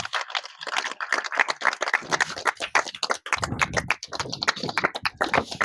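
Children at a school event clapping together, a dense, fast patter of many small hands that continues steadily and close by throughout.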